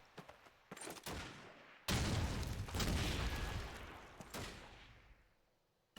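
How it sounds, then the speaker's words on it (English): A grenade explodes in Call of Duty 2 during a tournament match, a heavy boom that rolls out and fades after several sharper shots, with no talk over it. "Void's popping that nade over into Church."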